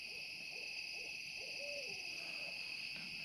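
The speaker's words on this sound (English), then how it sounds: "The owls are loud." Owls hoot at night at a campsite in Missouri's Big Creek Conservation Area, a soft low call rising over a constant high insect drone.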